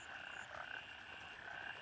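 A steady chorus of croaking frogs with chirping layered in, a dense continuous outdoor night ambience at low volume, from the video game Gray Zone Warfare.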